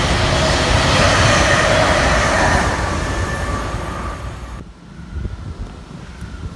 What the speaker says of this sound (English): that is a Colchester town service that is going to London Liverpool Street